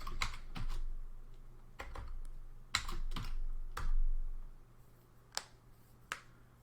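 A Linux command being typed on a computer keyboard: a short run of sharp, close key clicks in small bursts, then a few sparse taps, with no voices.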